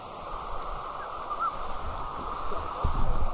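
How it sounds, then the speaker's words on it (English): A bird calls from a tree in a rainy forest, a few faint brief chirps over a steady hiss of rain and flowing water, heard at a distance with no talking. "There's a bird"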